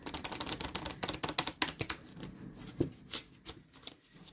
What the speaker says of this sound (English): see all the cards being shuffled